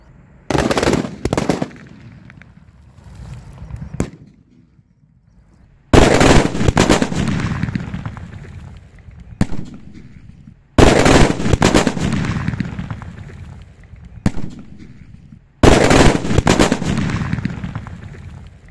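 Fifty large VIP firecrackers explode underwater in a Diwali experiment, heard as several loud bursts of rapid crackling blasts, each lasting a few seconds and separated by short quiet gaps, with no one talking.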